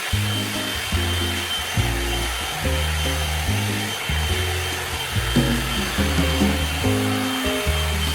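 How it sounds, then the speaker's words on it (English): A hair dryer blows hair straight with a steady, airy whoosh that runs the whole time, mixed under louder background music. "blow dry my hair straight"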